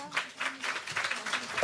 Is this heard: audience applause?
yes